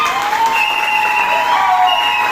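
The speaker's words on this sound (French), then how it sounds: "Applaudissez pour les petits." Audience applause breaks out in a church gathering, loud and close for a few seconds, with a dense wash of clapping and some voices mixed in.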